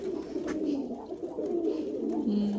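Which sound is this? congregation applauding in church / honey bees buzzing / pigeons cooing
pigeons cooing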